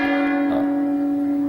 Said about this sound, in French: c'est le gong, en fait, qui donne le départ du Toku Quiz